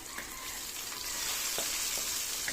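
Pork sautéing in a pan for ginisang gulay gives a continuous, fairly quiet sizzling hiss with a few faint crackles, steady throughout and with no voices.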